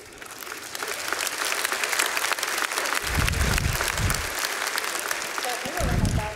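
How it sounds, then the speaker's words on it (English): Applause from an audience at a university opening ceremony for the academic year, sustained clapping that swells in bursts while a voice speaks over it. "You're already getting a big hand of applause."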